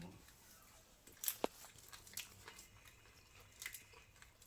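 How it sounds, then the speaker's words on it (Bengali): Fuchka, the crisp hollow street snack, bitten and chewed close up with a sharp crunch early on, then softer crackles among faint background talk. "দেখো ফুচকা খাচ্ছে, এই দেখো"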